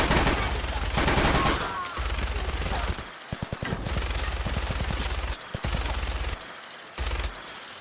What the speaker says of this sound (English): I'll use the minigun to clear out these guys here